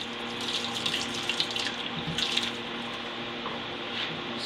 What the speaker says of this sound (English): we're going to pour them in the colander and pour off the whey